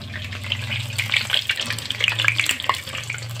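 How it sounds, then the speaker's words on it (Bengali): Water lily (shapla) fritters frying in hot oil in a pan, a steady bubbling sizzle with crackling pops as the pieces are turned over, close and fairly loud with no talking. "আমি এখন উল্টে পাল্টে বড়াগুলো সুন্দর মতো ভেজে নেব"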